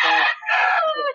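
Chickens brought as stopover cargo from Davao crow and cluck loudly and close by, in two strong bursts and then a fading call over about a second, with no talk.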